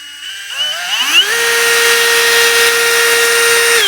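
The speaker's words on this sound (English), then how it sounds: "So however fast that drill is, that's the speed." A power drill spins up from rest, its whine rising in pitch over about a second, then holds a steady loud high-pitched motor tone near the microphone.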